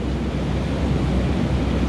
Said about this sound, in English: There's a great deal of wind